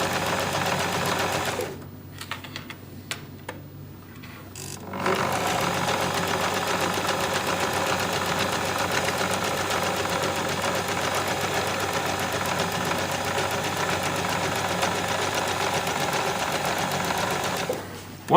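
A sewing machine stitching along the edges of a bag, running in a fast steady whir that pauses briefly with a few short stops near the start, then runs continuously until the end.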